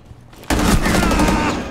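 Rainbow Six Siege gunfire erupts after a brief quiet moment, a dense, loud burst of rapid shots with a booming low end that rolls on for over a second.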